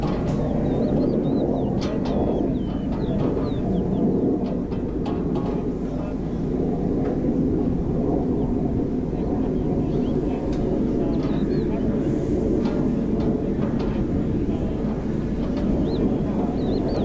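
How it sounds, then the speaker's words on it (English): Military planes pass over an Iraq War scene as a steady, heavy roar and rumble that runs unbroken throughout, with voices talking over the noise. "We can hear planes now."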